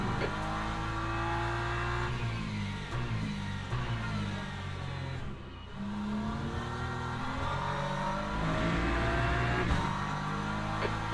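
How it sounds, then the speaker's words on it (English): Race car engines drone loudly and continuously from the racing sim Le Mans Ultimate at Imola, with a faster car closing in behind and revving through gear changes over a steady roar. "Angus, there's a faster car approaching."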